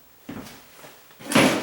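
A warped door is pulled and pushed shut, with a soft thump and creak followed by a louder closing knock near the end, close and distinct.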